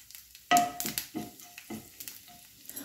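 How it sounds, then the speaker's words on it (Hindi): Cumin seeds hit hot oil in a kadai with a sudden crackling burst, then a quieter sizzle broken by a few light stirring clinks, close and brief with no speech. "ऑयल गरम हो गया है, बिल्कुल 1 चम्मच हमने ऑयल डाला है। इसमें डालेंगे हम लोग थोड़ा सा जीरा, मतलब 1 चम्मच"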